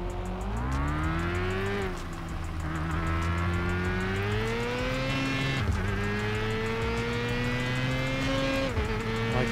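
A buggy engine in the Mon Bazou game pulling in first gear: a loud, steady droning motor whose pitch climbs with revs, dips briefly at shifts, then climbs again, with no speech.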